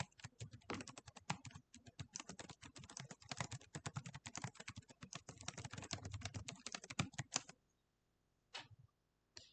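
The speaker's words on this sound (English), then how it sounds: "So I'm just going to type in a few words here." Rapid, steady typing on a computer keyboard, entering a short script into Canva's AI avatar tool; dense clicking keystrokes run for about seven seconds, then stop, with a couple of isolated clicks afterward.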